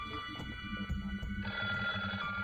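An antique black telephone rings in the video game SeaBed, its bell trilling in steady repeated bursts that grow louder and fuller midway, heard alone with no talk.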